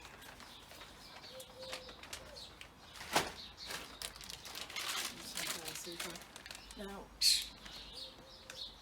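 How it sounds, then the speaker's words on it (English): Starlings feed on mealworms at a bird feeder, with scattered chirps, rustling and crinkling, and a few quick bursts of wing flapping, all fairly close. A voice speaks briefly among the bird sounds. "And I've got some greedy starlings."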